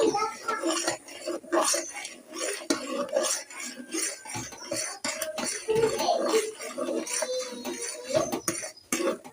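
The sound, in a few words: stirring milk powder into payasa mixture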